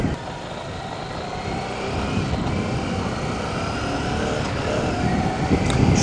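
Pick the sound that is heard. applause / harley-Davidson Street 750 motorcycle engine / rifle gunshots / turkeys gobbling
harley-Davidson Street 750 motorcycle engine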